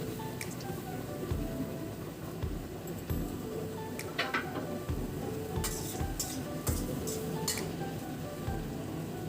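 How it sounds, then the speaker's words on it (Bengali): Onions frying in oil in a wok, with a steady sizzle under repeated stirring and scraping of a utensil against the pan, close and continuous with no talk. "এখন আমি কড়াইতে তেল দিয়ে পেঁয়াজটা ভেজে নিচ্ছি"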